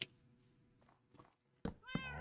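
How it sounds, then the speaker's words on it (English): Near the end, a brief meow from a cat in a Minecraft-style video game follows a few soft clicks and thumps. It is fairly quiet. "You know something? That's a cat."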